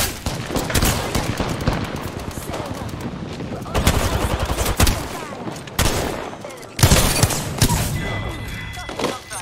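Video game gunfire in bursts of rapid, loud automatic shots and thuds, broken by short pauses, with a voice faintly under the shooting.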